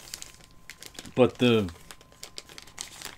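Crinkly plastic packaging around a comic book being pulled open, a couple of brief crackling bursts close to the microphone over quiet room noise, with a voice speaking briefly.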